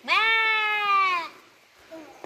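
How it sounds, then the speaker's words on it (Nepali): A young lamb on a grazing hillside gives one long, loud, wavering bleat close by, followed after a pause by a faint, short second call. "हाम्रो सानो भेडाको पाठा यसरी चढ्दैछ"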